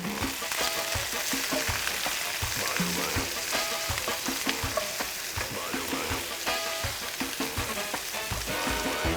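Meatballs with onions and garlic brown in hot olive oil, giving a dense, continuous sizzle and crackle, loud and close with no voices over it.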